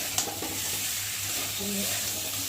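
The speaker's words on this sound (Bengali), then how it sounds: "মশলাটাকে ভালো করে কষাবো না কষালে তো" Spice masala with ginger and garlic sautés in a pan with a constant close sizzle, one sharp clink of the spoon early, then soft continuous stirring.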